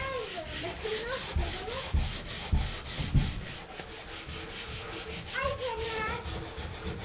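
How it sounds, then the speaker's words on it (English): Hand sanding of a painted wood surface gives rhythmic scraping strokes, repeated back and forth at a steady pace, close and moderately loud, while a voice and an adult speak over it. "do you want to try sanding it for a bit longer?"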